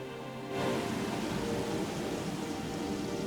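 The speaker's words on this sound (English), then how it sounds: "So yeah, we need the hailstorm." Rain during a hailstorm in the game Terraria starts abruptly after a brief quiet moment, then continues as a steady, dense hiss of falling rain.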